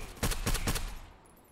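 Rapid bursts of automatic gunfire in a VR shooter game, three or four sharp, loud shots in quick succession followed by a fading tail.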